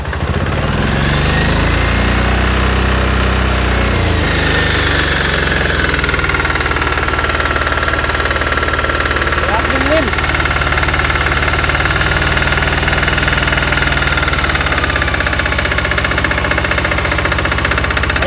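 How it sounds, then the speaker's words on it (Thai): A high-pressure spray pump's loud diesel engine runs close by with a heavy, knocking idle, shifting pitch partway through and then holding a steady, rough drone. "นี่ขนาดเดินเบานะ เดินเบายังแรงๆเลยนะครับ เร่งเครื่องเอา"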